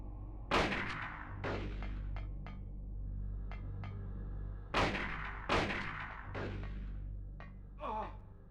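Rifle gunfire in Silent Hill: loud, sharp shots spaced a second or two apart, some in quick pairs, each leaving a short echoing tail over a low droning background.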